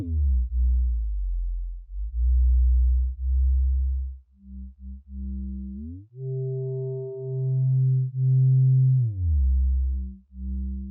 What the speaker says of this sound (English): you can already kind of hear the phasing and the shifting caused by the filters